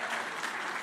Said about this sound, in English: give it a round of applause